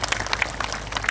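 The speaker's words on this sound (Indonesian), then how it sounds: "Tepuk tangan untuk Pak Bupati." Audience applause at an Islamic religious gathering, a brief burst of dense, scattered clapping from a crowd.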